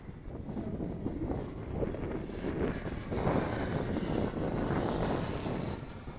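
A Freewing Venom V2 RC jet makes a low, slow pass with a steady, fairly faint ducted-fan whoosh and a high whine that swell slightly toward the middle and ease off at the end.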